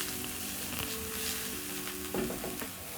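Garlic and oregano sauté in a hot pan, giving an even, continuous sizzle with a brief burst of louder crackling partway through and no voices.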